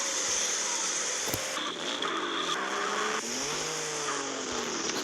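Car driving in the PC game GTA San Andreas: a steady, loud engine drone with shifting pitch and brief tire squeals, heard alone without talk.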